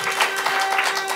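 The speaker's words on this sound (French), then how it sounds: "Un tonnerre d'applaudissements pour Star One" Steady, dense applause from a studio audience at a lively French-language entertainment show, sustained and fairly loud across the whole short moment with no pause.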